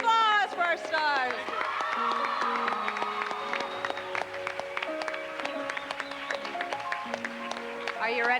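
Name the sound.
audience applause for the show's stars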